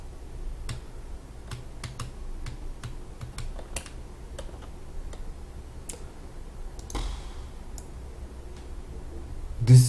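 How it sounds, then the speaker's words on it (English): A loud computer keyboard clicks away during typing: sparse, irregular sharp taps spread across the span over a low steady hum, with a faint rustle midway and a brief thump at the end. "My keyboard is kind of loud, so I don't know if you're gonna hear it."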